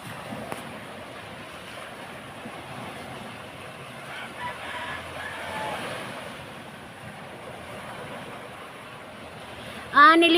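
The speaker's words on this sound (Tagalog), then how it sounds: "Kusog pa ang hangin." Strong typhoon wind blows across the seashore with surf washing in, a steady roaring rush that buffets the microphone, ending in a sharp gust.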